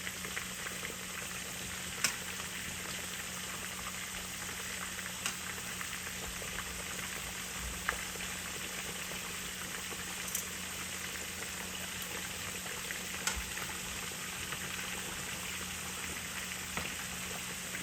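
Mustard-coated pork chops fry in a pan over a wood fire, giving a steady, continuous sizzle with faint crackles and occasional sharp pops throughout, no voices.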